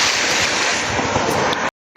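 Seaside surf rolling in steadily with broadband wash and some wind buffeting, loud and close, then cutting off abruptly near the end.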